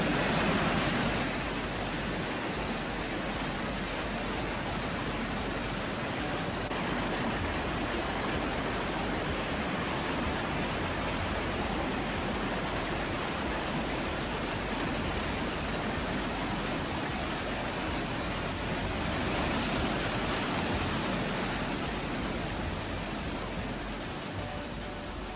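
Floodwater thunders over the Courtallam main falls, spilling past the safety barrier in a dense, continuous roar that stays loud and unbroken throughout, with no voices.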